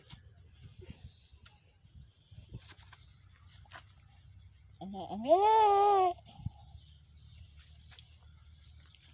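A goat gives one loud, wavering bleat lasting about a second, close by, while medicine is applied to its gums, amid quiet rustling and faint background sounds.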